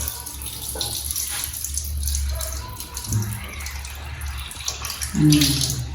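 Rice being washed in water in a home kitchen, with steady splashing and sloshing as grains are swirled, near and continuous, and a couple of brief knocks toward the end.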